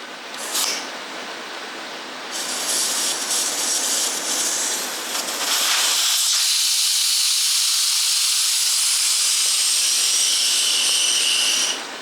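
Air rushes out of an MB200 tire after its valve stem is pulled, making a loud, continuous hiss that gets stronger partway through and keeps going steadily to the end.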